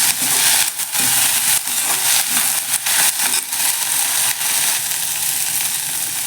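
Mint and coriander leaves sautéing in a pan for mint rice, a steady loud sizzle and crackle with occasional stirring knocks, close up and without talk.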